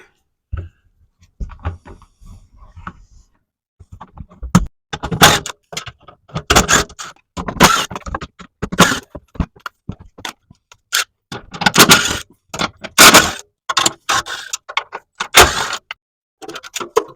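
A wrench loosens bolts on the skid plate under a truck during a front differential fluid change, with loud, close bursts of rapid ratcheting clicks broken by short pauses and no speech.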